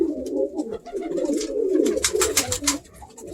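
Pigeons in a breeder's loft coo continuously in low, throaty warbles, several birds overlapping close by, with brief higher wing flutters and scuffles mixed in.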